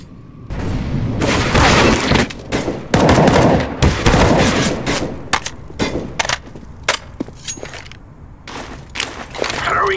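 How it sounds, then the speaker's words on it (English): In CS:GO a grenade and fire are thrown amid a dense burst of gunfire and booms, loud and continuous at first, then thinning into scattered sharp shots and thuds with a sustained fire hiss near the end. "Throwing a grenade."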